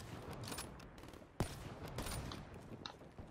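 Gunfire in the Black Ops 3 video game: bursts of rapid shots and one sharp louder crack, fairly faint overall, over a continuous noisy background.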